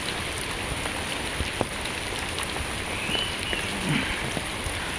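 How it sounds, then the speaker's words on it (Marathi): Heavy rain pouring down outdoors among trees: a steady, dense hiss of falling water with a few scattered louder drops and faint background chirps, constant and fairly loud, no talking. "पाऊस पण चांगला जोरात पडतोय."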